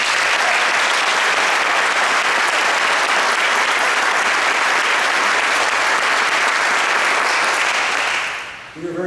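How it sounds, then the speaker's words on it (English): Sustained audience applause at a college Wall of Honor ceremony, a dense, steady wash of many hands clapping for several seconds before fading out near the end. "One more round of applause for the people that make it work."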